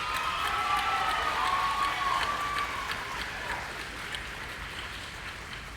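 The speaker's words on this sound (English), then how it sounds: "let's give ourselves a round of applause" A graduation ceremony audience at Horizon Science Academy in Toledo applauds steadily and loudly, a dense wash of clapping with a faint tonal whine running through it, fading slightly toward the end.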